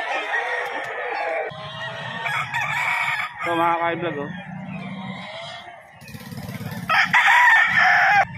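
Roosters crow and chickens cluck in a lively yard, with someone talking over the birds throughout.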